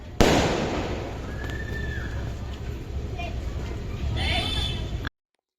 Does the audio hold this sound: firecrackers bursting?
yes